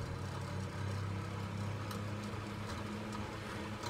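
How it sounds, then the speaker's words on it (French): A nearby electric fan runs indoors, a steady low hum with a broad airy whoosh that holds constant for the whole stretch, with no voices. "Je suis désolée, mais je remets le ventilo."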